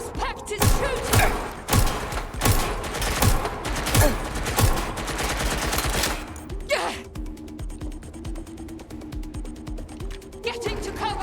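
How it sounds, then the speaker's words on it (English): Rapid bursts of gunfire in the video game Watch Dogs Legion crackle through the first six seconds, loud and close, then give way to a quieter mechanical hum with a few later shots. "Suspect is shooting!"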